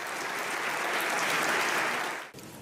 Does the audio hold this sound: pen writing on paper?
no